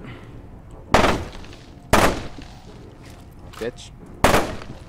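Gunfire in the first-person shooter F.E.A.R. 2: Project Origins, with three loud, sharp single shots at irregular intervals and short decays, plus a brief muffled noise between them, while a man curses over the action.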